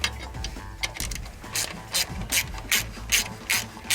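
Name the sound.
ratchet cranking belt tensioner to lower alternator, 2002 Subaru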